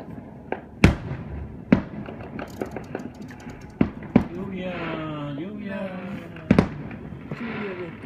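Fourth of July fireworks going off, several sharp booms and pops spread out over the clip with a steady background rumble. Voices talk nearby between and over the bursts.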